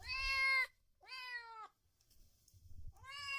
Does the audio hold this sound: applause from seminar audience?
no